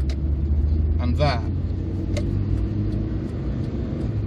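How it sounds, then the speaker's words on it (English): Engine drone and road roar inside a 1992 Kia Pride 1.3 LX (Ford Festiva/Mazda 121) on the move: a loud constant low rumble with brief clicks and squeaks over it, while someone talks. "We've got very high levels of noise compared to a modern car"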